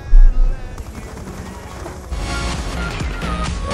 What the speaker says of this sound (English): Where am I getting shot from?